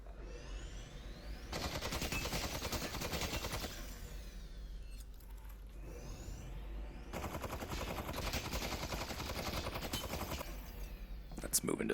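Sustained automatic gunfire in the VR shooter BattleGroup VR2, two long rattling bursts separated by a short gap, fairly distant and steady, with talk faintly present.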